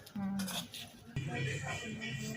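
Soybean pakoda batter is mixed in a bowl, with dense clattering and scraping of a utensil close up and someone talking over it.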